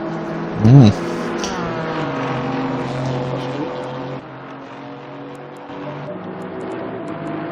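GT4 race cars at Zolder in Assetto Corsa Competizione drone steadily at high revs. A short, louder blip stands out near the start, and the engine tone shifts midway as the cars run on under a commentator's voice.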